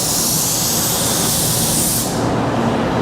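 A paint spray gun spraying at the right distance from the surface, giving a loud, continuous airy hiss that stays steady throughout and thins slightly in brightness near the end.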